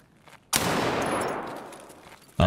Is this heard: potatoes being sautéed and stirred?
no